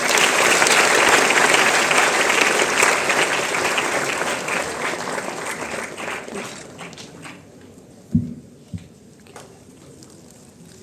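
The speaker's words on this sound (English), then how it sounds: "A round of applause," A large audience claps loudly and steadily in applause honoring successful NEET exam students at an Aakash Byju's coaching event, the sound fading out after about seven seconds, followed by a few isolated taps and thumps.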